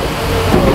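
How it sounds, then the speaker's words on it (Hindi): Monsoon rain falls at Chhatrapati Shivaji Maharaj Terminus railway station as a dense, continuous wash of hiss and low rumble, loud and close, with no voices. "आप देख सकते हैं बारिश फिर से"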